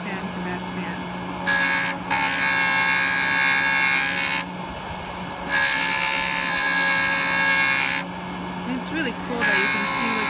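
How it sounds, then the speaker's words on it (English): A JOOLTOOL rotary sander fitted with a finer disc works over ice resin in three close buzzing passes, separated by brief drops back to the motor's steady hum, while a person talks underneath. "We'll sand this down. And you can see it's a finer sand."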